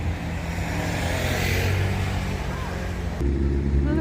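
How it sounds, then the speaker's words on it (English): Busy main road in Paphos, Cyprus, a dense continuous roar of passing cars and engines close by, loud and steady, growing heavier and deeper near the end as a vehicle rumbles past. "I'm by a main road that's very noisy."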